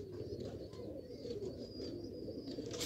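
Rampuri pigeons cooing softly in a loft, a continuous low murmur of coos with a few faint higher chirps over a steady background hum, no talk.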